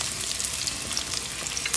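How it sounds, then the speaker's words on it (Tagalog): Onions sizzle in hot cooking oil in a pan, a steady close crackling hiss with small pops throughout the short moment. "Mainit na ang ating mantika. Pwede na nating ilagay ang sibuyas."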